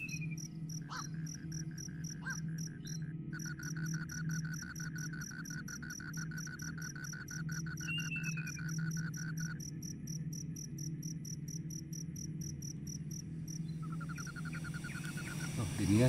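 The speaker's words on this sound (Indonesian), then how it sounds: "Ini ya samunyen jangkrik nih bu." Crickets chirp in steady, rapid pulsing trains at night, several insects overlapping at different pitches, clear and close over a low background hum, with one chorus dropping out and others continuing.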